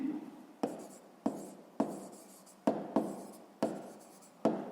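A pen scratches out a step of a sixth-grade math solution on paper, with about eight firm strokes at a steady pace, each a sharp scrape that fades quickly.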